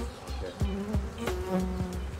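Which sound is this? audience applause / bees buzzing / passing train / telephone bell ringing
bees buzzing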